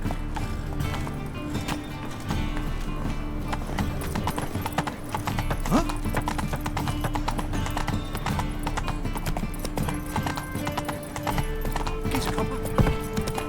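Steady clip-clopping horse hooves from The Witcher 3 video game, a continuous trotting rhythm laid over game music and ambience, with brief whinnying and a little voice in the background.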